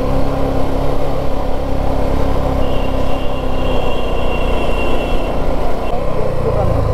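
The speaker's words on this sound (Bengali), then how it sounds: "একটা গাড়ি আসছে।" A car drives toward the listener on a wet road near Kurseong, giving a steady close engine hum and tyre hiss with no clear rise or peak. Voices can be heard faintly beneath the noise.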